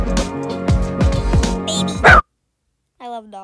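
A dog barks in a quick series of sharp yips and woofs close by, ending in a higher whine, followed by a short silence and then a brief voice.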